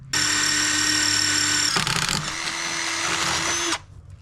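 A power drill bores a hole through a car's metal strut tower in a Jetta VR6 wagon, whining loud and close with a pitch shift midway as the bit bites, then stopping abruptly.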